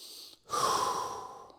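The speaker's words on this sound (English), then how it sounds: "A couple inhales and exhales here." Close breathing during a mobility stretch: a short breath, a brief pause, then a long audible inhale and exhale with soft airy noise, no talking.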